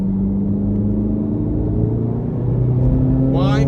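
Corvette C8 Z06 engine running steadily from inside the car, a dense low drone with a faint whine, near and constant, ending with a brief higher sweep.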